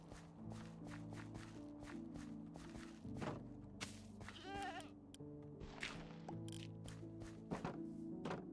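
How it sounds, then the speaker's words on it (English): Goats in a base-building video game bleat repeatedly in short, nasal calls over a layered musical background, mixed with light stepping and clicking game sounds. "The goats are like all hanging in this corner for some reason."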